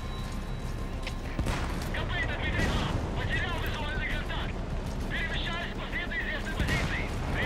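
Gunfire and explosions in a video game tank battle crackle and boom in quick bursts over a steady rumble, with a voice talking over the action.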